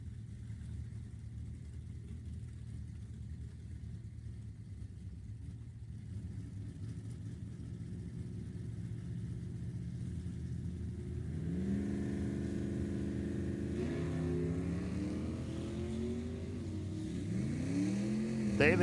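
Two Summit ET bracket drag race cars at Sacramento Raceway launch together, engines droning steadily then rising into loud revving as they pull away down the track, with an announcer's voice over the roar.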